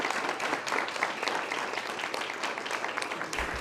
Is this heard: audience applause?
yes